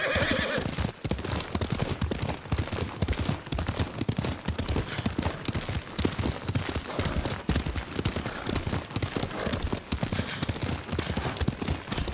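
Rapid, steady clip-clop of horse hoofbeats at a gallop in the samurai video game Ghost of Tsushima, loud and continuous throughout, with occasional neighs and faint battle noise mixed in.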